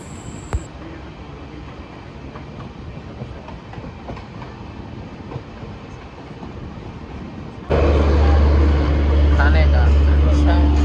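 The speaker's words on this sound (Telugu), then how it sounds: "మనకి గూడ్స్ ట్రైన్కి ప్యారల్ రన్ అవుతుంది చూడండి." A passenger express train on an Indian railway runs alongside a goods train, with a steady rumbling clatter that suddenly grows much louder and denser partway through as the adjacent wagons close in; a voice is heard too.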